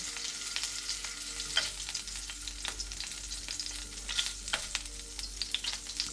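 Fish pieces frying in a pan for a Turkish seafood meze, a steady close sizzle with sharp crackles and pops scattered throughout, no voices.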